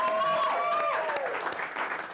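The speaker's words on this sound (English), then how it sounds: "so give them a nice round of applause" A studio audience at a late-night local variety show applauds in a dense, continuous wash of clapping, with rising whistle-like tones briefly on top.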